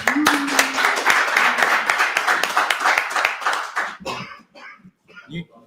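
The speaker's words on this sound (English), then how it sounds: "Round of applause for Daniel." A small audience claps for a participant named Daniel, giving a few seconds of close, uneven applause that dies away, after which voices talk briefly.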